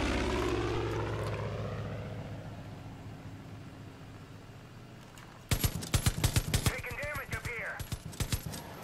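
A damaged aircraft about to crash land in Far Cry 5: a loud propeller engine drone fading steadily, then rapid bursts of machine-gun fire over a raised voice.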